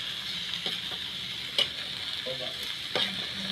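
Cabbage and eggs stir-fried in a pan, a steady close sizzle with intermittent scraping and clacking strokes of a spatula against the pan, two strokes sharper than the rest.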